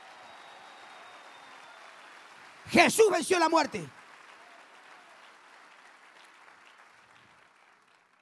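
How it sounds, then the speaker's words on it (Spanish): Church congregation applause carries on as a faint, steady wash of distant clapping, briefly covered by a preacher's loud voice in the middle. "Fuerte el aplauso a Jesucristo."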